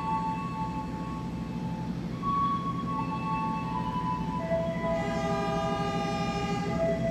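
Fajar Utama Solo economy train pulling out of Pasar Senen station in Jakarta, a steady low rumble of the carriages with sustained tonal horn or whistle notes sounding through, continuous and fairly quiet.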